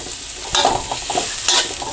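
Salted pork stir-roasted in a pan over low heat, with soft sizzling and frying under repeated scraping and stirring strokes, close and steady with no talking.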